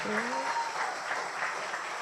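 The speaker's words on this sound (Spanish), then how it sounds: "Yo quiero que le den una ofrenda de aplauso al Rey de Reyes y Señores." A church audience claps briefly, a soft, fairly distant burst of applause with a voice trailing off at the start.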